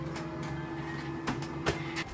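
A machine hums steadily with a faint whine, broken by a few short clacks and thumps as a mechanism is shut, moderately close and fairly quiet.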